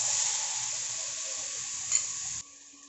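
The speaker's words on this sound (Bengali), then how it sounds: "টমেটোটা তেলে ভেজে নিচ্ছি" Tomatoes frying in hot oil give a steady loud sizzle with a brief stir in the middle, then the sizzle drops sharply to a quieter hiss near the end.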